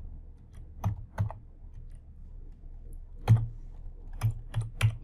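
Someone types on a computer keyboard, with a handful of separate sharp key clicks spread across a few seconds, some coming in quick pairs, against quiet room noise.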